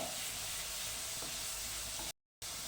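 Onion fries in a pan for a dhaba-style whole masoor curry, giving a soft, continuous sizzle and hiss with light stirring, cut off by a short gap of silence near the end.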